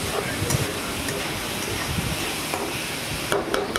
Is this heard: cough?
no